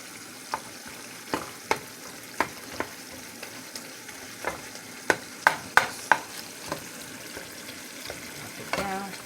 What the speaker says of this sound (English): And over here I have my meat cooking.